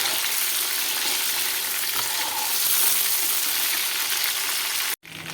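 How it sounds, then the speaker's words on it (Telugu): Mutton pieces frying in a pan for a mutton pickle, a steady loud sizzle with crackling spatter throughout, briefly cut off near the end before resuming. "మటన్ అయితే మంచి మటన్ ముక్కలు అయితే వేగినాయి"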